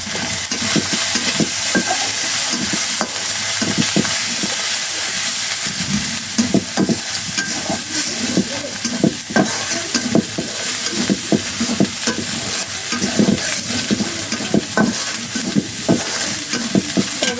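Turmeric and chili powder fry loudly in a pan, a dense hiss and sizzle broken by repeated scraping clicks of stirring throughout, close up with no voices.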